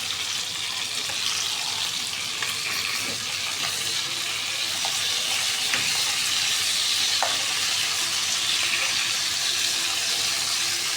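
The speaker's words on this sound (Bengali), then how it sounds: "আস্তে আস্তে ভাজা হোক।" Food frying slowly in oil left over from frying onions in a pan, during home cooking of a chicken roast and white pulao, a steady continuous sizzle with occasional stirring scrapes, close and even throughout with no talking.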